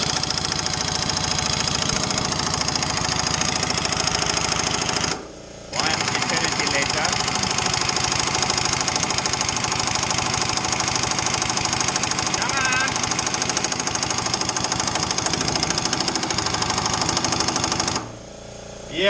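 An air compressor runs in a home garage during suspension work, a loud steady mechanical drone with a low knocking pulse that fills the clip, cutting out briefly twice.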